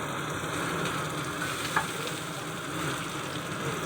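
Chopped green chillies and tomato frying in a pan for begun bhorta, a steady close sizzle with faint stirring.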